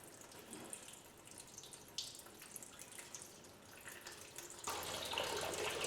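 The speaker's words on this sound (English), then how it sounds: "Now that's a lot of coolant coming out." Antifreeze coolant draining from a car radiator in a thin stream, a faint, steady trickle and patter of liquid that swells into a fuller, louder splashing flow near the end.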